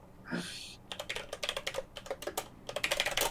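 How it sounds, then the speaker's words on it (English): Rapid typing on a computer keyboard, a quick run of close, crisp clicks after a brief swish, continuing unevenly to the end. "Sorry, I was typing there."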